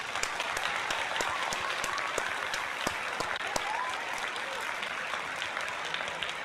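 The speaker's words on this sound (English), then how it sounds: "So let's give Hunter a round of applause." Small audience applauding for Hunter during a baseball play-by-play live stream, a faint, steady patter of clapping with a few sharper claps standing out and no talk over it.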